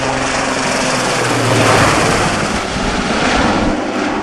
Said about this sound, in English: Sea Sprite helicopter found Campbell's conditions demanding